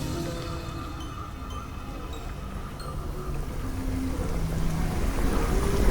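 A fishing boat's engine in the video game DREDGE drones at a low, steady rumble beneath wind and water wash, swelling slightly louder toward the end with no talking.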